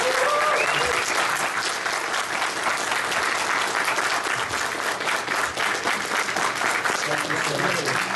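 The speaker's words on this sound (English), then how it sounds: "Everybody, big round of applause." A convention crowd at the Monsterama Q&A gives a warm, sustained round of applause welcoming Nicholas Meyer, thick steady clapping throughout with faint voices mixed in.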